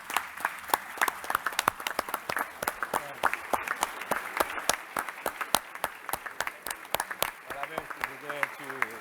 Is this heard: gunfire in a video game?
no